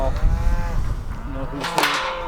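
A cow moos loudly and close by in a farm pen where calves are being sorted, one drawn-out bellowing call that rises and falls, with no talk over it.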